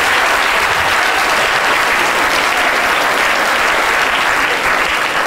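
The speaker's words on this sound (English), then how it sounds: "Round of applause." Loud, dense audience applause for a volunteer after a brain demonstration on stage, many hands clapping together at a constant level throughout.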